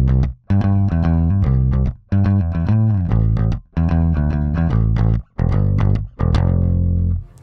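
Electric guitar run through effects picks quick, bright arpeggiated notes in short phrases separated by brief pauses, descending toward a pre-chorus, loud and close with no voices.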